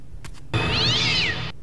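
A video game cat gives one drawn-out, rising and falling meow, clear and close, after two faint short sounds at the start.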